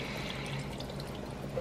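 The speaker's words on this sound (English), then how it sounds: "I'm gonna go ahead add the coconut milk into this too" Coconut milk poured into a pot of Lao red chicken curry, a soft steady liquid pouring and gentle bubbling, close and fairly quiet, with no talking.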